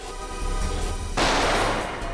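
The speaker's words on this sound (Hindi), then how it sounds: "सर हम लोग गोली की आवाज सुनकर बहुत डर गए थे" A single loud gunshot bursts midway through a tense crime-drama scene inside a bank vault, a broadband crack that decays into a reverberant roar over a steady low rumble.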